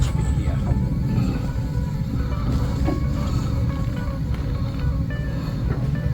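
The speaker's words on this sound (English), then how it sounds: "And that's not me breathing, that's actually the wind" Wind gusting around the top of a structure at night, a steady low rumbling roar with airy buffeting that persists throughout without a break.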